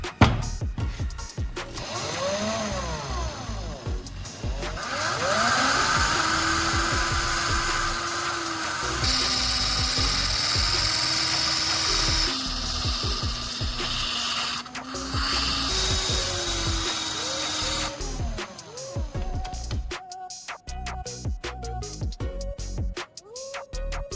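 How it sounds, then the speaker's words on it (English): A power grinder works a small metal tip down for a homemade butane torch, a continuous close whine that shifts pitch as pressure changes, steady and loud for about twenty seconds before winding down. "I need to carefully grind down the tip to make it smaller"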